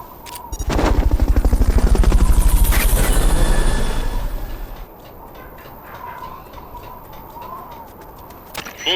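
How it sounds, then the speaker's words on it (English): A helicopter in the video game Metal Gear Solid: Peace Walker gives a loud, rapid rotor chop that swells and fades over several seconds, then settles into a quieter, steady hum. "Fulton recovery subject confirmed onboard helicopter."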